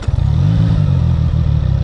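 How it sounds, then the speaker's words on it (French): A CF Moto 675 SR-R three-cylinder motorcycle engine, already warm, catches right at the start and settles into a loud, steady, throbbing idle heard up close, with no talk over it. "on va démarrer ce beau 3 cylindres"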